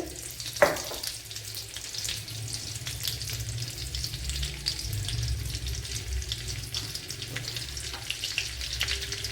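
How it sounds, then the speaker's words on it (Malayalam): Two tablespoons of coconut oil sizzle and crackle in a pan while cooking a quail egg roast, a steady close frying hiss with a sharp pop near the start and scattered spits throughout, no voices. "കുറച്ച് വെളിച്ചെണ്ണ ഒഴിച്ചു കൊടുക്കുക ഒരു രണ്ട് ടേബിൾ സ്പൂൺ വെളിച്ചെണ്ണ കൊടുത്തിട്ടുണ്ട്"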